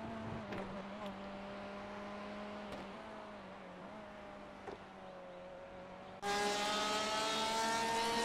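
A Porsche race car in a sim racing game at Watkins Glen, its engine droning steadily at near-constant pitch with small gear shifts, then surging into a louder, brighter wail near the end.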